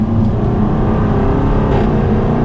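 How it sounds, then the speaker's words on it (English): A 2021 Jaguar F-Type R's V8 exhaust rumbles loud and deep while driving, a continuous heavy, throbbing drone that holds steady throughout without talk. "I love that sound of a V8. It just has a very aggressive rumble to it."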